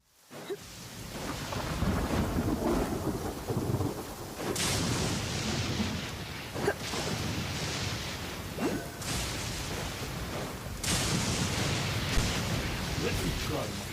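Steady rain and rolling thunder in the video game Genshin Impact, a continuous hiss with repeated low rumbles and sharp cracks near the 5, 9 and 11 second marks, with a voice talking over it at times.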